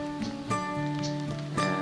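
Steady rain falls on a rural site in the Mekong Delta where a hut is being built, a dense continuous patter with a few louder drips and a faint tonal hum underneath.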